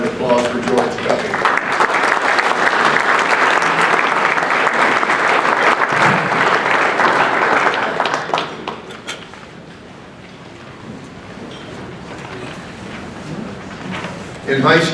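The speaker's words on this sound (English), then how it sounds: "you give it a round of applause for George Cuppy" A round of applause for George Cuppy, an absent baseball Hall of Fame inductee, fills a hotel ballroom, the dense clapping loud and sustained for about nine seconds before fading, with a voice then speaking over the room's quieter murmur.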